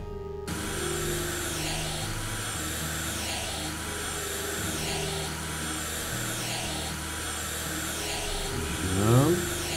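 A window squeegee in the House Flipper video game that sounds like a vacuum cleaner, giving a steady, loud motor drone that runs the whole time and shifts pitch now and then, with a brief rising whine near the end.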